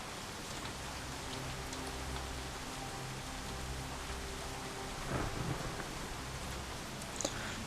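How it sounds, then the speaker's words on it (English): Heavy rain hisses without a break through a thunderstorm in the video game Shadowrun: Hong Kong, with a low rolling rumble of thunder underneath and a couple of faint cracks near the end. "The storm is loud, practically deafening. Periodic thunderclaps roar like a distant cannon fire,"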